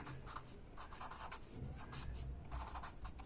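A pen or chalk scratches in short strokes while someone writes by hand during a Hindi-language science lesson on the human digestive system, faint and steady with no talk.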